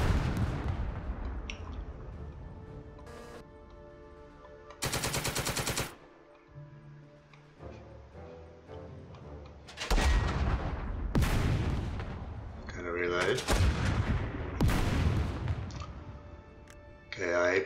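Artillery fires high explosive shells in the Second Front video game, with repeated loud booming shots and bursts over a steady rumble, and game voices speaking between them.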